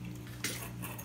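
Puppies eating from a bowl, with a brief clink of kibble or teeth against the bowl and faint scraping, heard close and quiet.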